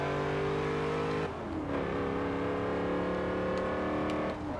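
A Cadillac engine in Forza Motorsport 7 revs hard and upshifts during a parking attempt. The loud, close drone climbs steadily, drops as it changes gear, then climbs again.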